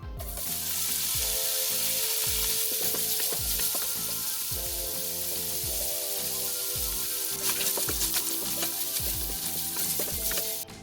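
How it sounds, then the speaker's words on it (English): Sausage lightly browning in a pan for gumbo, a steady loud sizzle with repeated scraping and stirring strokes throughout, no voices. "put the sausage into the pan and just kind of lightly brown that"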